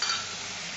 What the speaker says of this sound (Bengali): কাঁচা লঙ্কা ফাটছে।